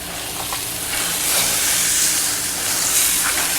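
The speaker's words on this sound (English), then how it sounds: "we're going to do the regular burgers on top of the Kingsford" Burgers sizzle steadily on a grill over Kingsford Long Burn charcoal, a loud, dense, continuous hiss with slight swells in intensity and no talking.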